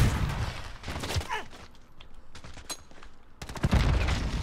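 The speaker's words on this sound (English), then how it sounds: "I got shot from the south by a guy named West." Gunfire in Call of Duty: Modern Warfare, with bursts of rapid automatic shots and scattered single cracks, loud and close, with a quieter lull in the middle.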